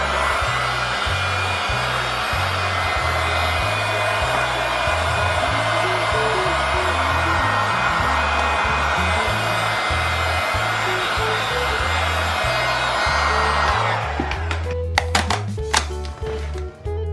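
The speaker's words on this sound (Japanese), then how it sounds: "最初にちょっとドライヤーで温めます" A hair dryer blows steadily and loudly for about fourteen seconds while warming vinyl wrap film on a Tesla wall connector, then cuts out, leaving handling noises.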